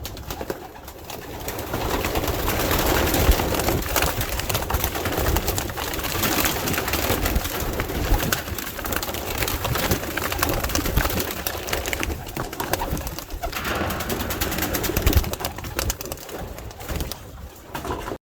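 A dense flurry of flapping wings and cooing from many pigeons being released fills the air continuously, close and busy throughout.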